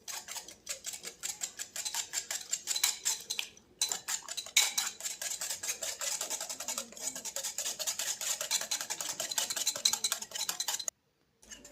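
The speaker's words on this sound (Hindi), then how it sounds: "दही डालने के बाद मैं अच्छे से फेंट देती हूँ।" Batter made with two spoons of yogurt and a little water is whisked briskly with a spoon in a bowl, a continuous fast clatter of metal against the bowl with a few brief pauses, close and fairly loud.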